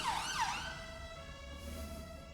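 An emergency vehicle siren wails through a falling sweep, then settles into a steady tone as it passes at moderate distance, with no talking.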